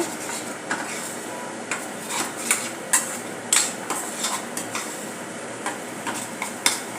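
A spoon scrapes and taps rhythmically against a pan while green moong vadi masala gravy is stirred over low flame, with a soft sizzle underneath.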